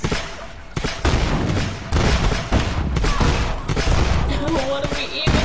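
Repeated gunfire in Lara Croft and the Temple of Osiris, a four-player co-op game, comes as loud, dense bursts of shots and thuds that almost never stop, with short tonal game effects near the end.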